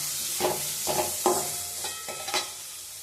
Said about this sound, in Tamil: ஸோ ஆனியன் போட்டதும் கருவேப்பிலை. இந்த ஆனியன் நல்லா கோல்டன் ப்ரௌன் கலரில் வந்து வதங்கணும்,